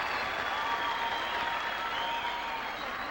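Squash crowd at the 1999 Al Ahram World Open final in applause and cheering, a dense, steady wash of clapping filling the whole moment at moderate distance.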